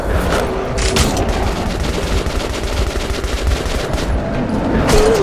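Rapid, dense gunfire from the video game Metro 2033 Redux, sustained bursts crackling loudly and continuously throughout with no talking.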